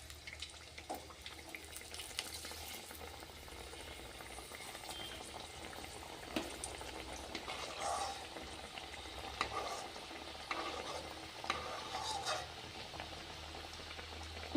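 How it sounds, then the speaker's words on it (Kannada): Snacks deep frying in hot oil make a soft, continuous bubbling sizzle with scattered pops and occasional louder crackles, heard at moderate distance without talking. "ಈಗ ಎಣ್ಣೆ ಒಳಗೆ ಫ್ರೈ ಮಾಡ್ಕೊಳ್ಳೋಣ ಬನ್ನಿ"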